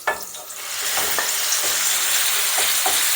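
Chicken pieces dropped into a hot pan of butter and oil, an immediate loud steady sizzle with a few stirring clatters at the start, no voices.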